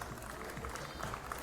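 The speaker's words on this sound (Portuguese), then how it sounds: "Uma salva de palmas." Crowd at an outdoor town fair festival in Quinta do Conde applauds a music trio, a faint, muffled wash of clapping and crowd noise lasting only a moment.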